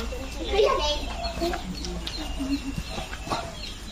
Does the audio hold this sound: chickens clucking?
yes